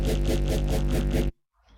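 Dubstep wobble bass programmed in Fruity Loops, a loud, distorted, rhythmically pulsing low synth that throbs several times and then cuts off abruptly, leaving a faint tail.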